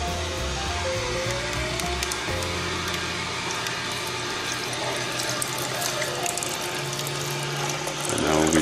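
A juicer grinds almonds with water to make almond milk, with a steady mechanical grinding and ratcheting whir and a wet, trickling undertone, close and continuous throughout.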